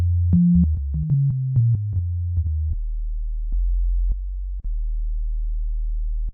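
A deep sine-wave sub bass plays a short run of low notes, then settles into a sustained, very low hum with soft clicks at each note change.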